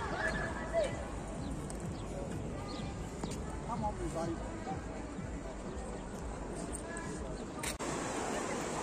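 A donkey brays outdoors on a tour through Holland and Belgium, a repeated, loud, wheezing call over a steady background with faint murmuring voices nearby.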